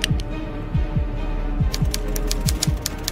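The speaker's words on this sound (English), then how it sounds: "The typewriter." Typewriter keys struck in a hidden-object detective game, giving a string of sharp, dry clicks at an irregular pace, with a few brighter taps near the end and no talk.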